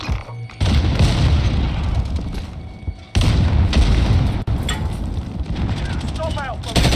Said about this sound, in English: Throw a nade.